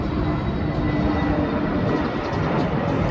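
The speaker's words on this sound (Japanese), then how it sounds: "ほんと飛行機がね、ガッと入ってくる" A low airplane passes over a shrine neighbourhood in Shime, Kasuya District, Fukuoka, with a loud, steady jet roar that fills the whole moment with no pauses and no talking.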